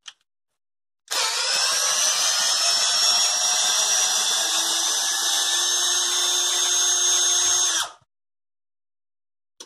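A NITEO Tools 20V impact drill driver unscrewing a fastener, one continuous high motor whine running about seven seconds at steady loudness, close and alone, starting and stopping abruptly.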